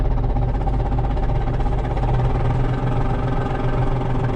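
A tractor engine runs loud and close under light throttle, a steady low rumbling drone with constant vibration and no voices.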